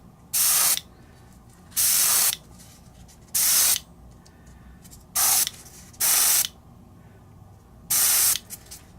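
An airbrush sprays paint onto a Warhammer 40K miniature in six short, close, even hissing bursts of under a second each, with quiet pauses between them.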